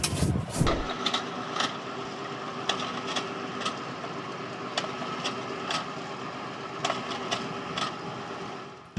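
A farm tractor working the soil in a single pass that opens the ground, drops seed and covers it, its engine a steady mid-pitched drone throughout with occasional sharp clicks and rattles from the implement.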